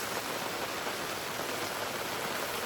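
Steady rain falling on a camper van, a dense, even hiss of drops on the roof heard from inside, with no voices.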